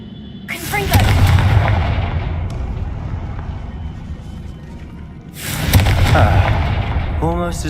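Two loud, booming fire-spell blasts from the Confringo spell in the Hogwarts Legacy video game, each a sharp crack that swells into a long roaring rumble, the second arriving about five seconds after the first.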